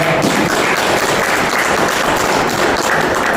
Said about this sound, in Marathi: तुम्ही सर्वांनी टाळ्या वाजवून त्याला संबंध द्या